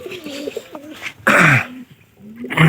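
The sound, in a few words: pigeons cooing in pigeon house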